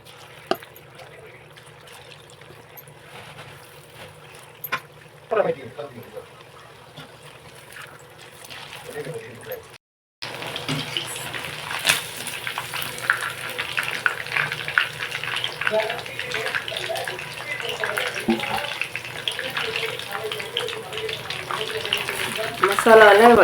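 Chicken 65 pieces drop into hot oil for deep-frying. After a quiet stretch, a loud, continuous bubbling sizzle starts abruptly and keeps going steadily, close by.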